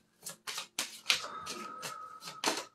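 Cards from a tarot deck are shuffled by hand, giving a quick series of about eight soft, close riffling and tapping bursts, quiet and unaccompanied by speech.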